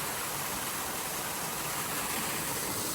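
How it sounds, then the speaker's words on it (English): A waterfall swollen after rain roars near a riverside campsite as a dense, unbroken wash of loud broadband rushing water with no voices. "Look at this waterfall, Bruno."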